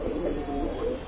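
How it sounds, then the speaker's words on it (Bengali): A pair of Holi Cooper pigeons coos in a low, steady murmur that runs continuously through the short stretch, close and moderately loud with no talking. "কালারের ভিতরে এক জোড়া হলি কুপার কবুতর, মাশাআল্লাহ কোয়ালিটি সম্পন্ন"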